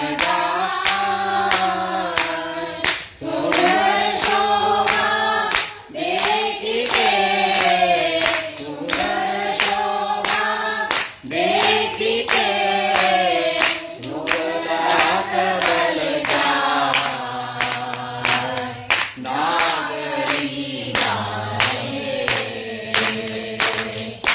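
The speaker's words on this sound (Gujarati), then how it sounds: "તો એક તાળી જે છે એ સોંગની તાળી છે અને એક છે એ સપોર્ટની તાળી છે" Steady rhythmic hand claps keep time beneath continuous group kirtan singing at a kirtan class in Bhavnagar, the sharp claps recurring evenly through the melodic chanting.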